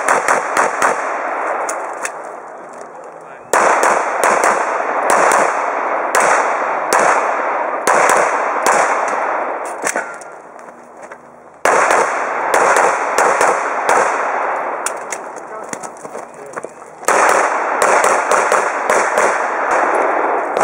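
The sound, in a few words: gunshots at a shooting range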